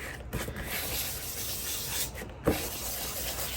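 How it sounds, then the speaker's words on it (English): Material being burnished down onto an adhesive sheet with excess removed: close, quiet rubbing and scraping strokes with a few sharper scuffs and a small knock near the end. "So this is burnishing it right down into the adhesive sheet and taking off all the excess."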